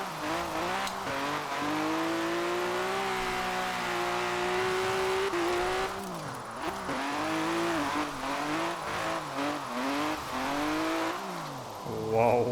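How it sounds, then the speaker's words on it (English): Virtual BMW E34 M5 V8 drift build in Forza Horizon 4 burbles steadily at low revs, pitch wavering up and down with throttle blips and a brief tire squeal, loud and close with no talk. "I love these older BMW V8s, NL6s, and the way they sound in the lower RPMs."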